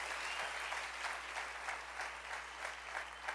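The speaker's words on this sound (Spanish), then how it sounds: "Dale un aplauso bien fuerte al Rey." A church congregation applauds during a sermon, a dense, fairly distant wash of clapping with a steady pulse, continuing evenly without voices.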